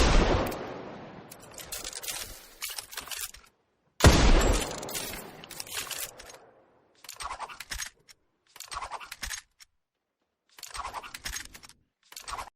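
Video game gunplay: a swishing twirl and whistle of a revolver draw, then several sharp gunshot bursts and short volleys separated by silences, crisp and close.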